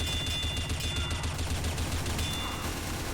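Rapid SMG gunfire in Team Fortress 2 rattles on steadily throughout, a dense continuous stream of shots with no pauses and no voices.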